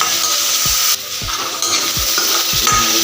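Ingredients stir-fried in a hot pan until reddish, a loud continuous sizzle cut by about five sharp scraping strokes of a spatula.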